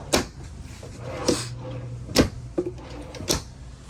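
Kitchen drawers in a 2018 Tiffin Allegro 34PA motorhome slide and shut in a series of four or five soft, close knocks and thumps, spaced unevenly over a few seconds.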